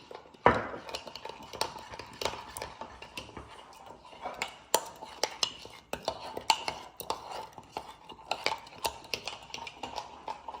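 A spoon stirs chocolate mug cake batter and clinks against a mug in a steady, repeated rhythm of small taps and scrapes, close up and fairly soft.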